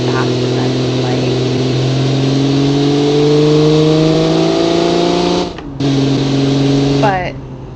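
The engine of a 1945-era car in the BeamNG game drones loudly and close, its pitch climbing steadily as it accelerates. It drops briefly during a gear change, then rises again with a quick upward sweep at the end.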